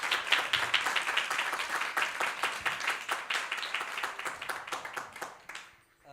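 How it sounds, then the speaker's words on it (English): An audience gives a round of applause for students at an Easwaramma Day celebration in a Sai centre hall, a dense, steady patter of many hands that fades out toward the end. "Can we have another round of applause for our amazing students?"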